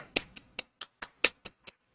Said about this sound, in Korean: 박수 쳐드려야지